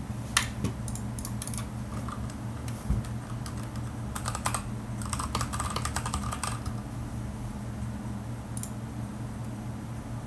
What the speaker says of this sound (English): I'll leave you guys right next to the keyboard, and so you guys can really feel and hear the sound.